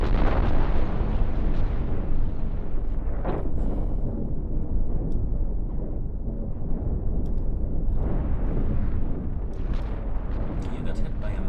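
Missile impacts rumble and burst in the space-ship building game Cosmoteer, a dense, continuous roar of explosions with sharper crackling pops scattered throughout, loud and close, while a player talks over it.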